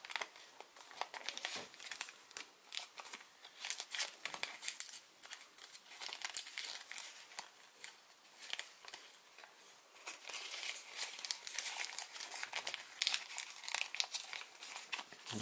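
Origami paper is creased and flattened while folding a Baby Ryujin dragon model, giving close, continuous crinkling and crisp rustling with sharper crackles as folds are pressed flat.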